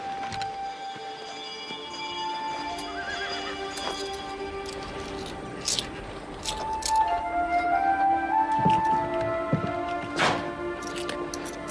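A horse near a stable whinnies over a steady clip-clop of hooves, with a lively background of scattered sounds and no speech.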